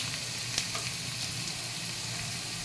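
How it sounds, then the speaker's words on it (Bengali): Ginger paste sizzles in a hot frying pan with fried vegetables for a vegetarian banana-flower dish, a loud, even, close hiss with faint stirring scrapes and no talk. "এবারে আমি আদা বাটা দেবো"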